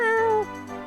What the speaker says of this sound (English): Is that your cat in the front, Ald?